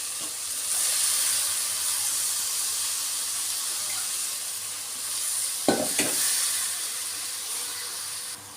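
Soaked moong dal and rice go into a hot pan for kichidi, a steady loud sizzle and hiss with a couple of brief splashy bursts as ingredients hit the oil, no speech.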